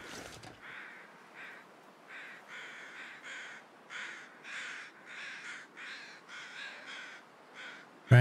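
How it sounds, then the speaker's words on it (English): Crows in The Long Dark caw in a long series of harsh, evenly spaced calls, fairly distant and clear over quiet wilderness, with a sharp noise at the very start and end. "Trying to listen to the crows."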